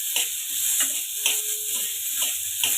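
Green chillies sizzle in a small amount of oil in a pan while pudina tomato chutney is made, a steady close frying hiss with intermittent stirring taps.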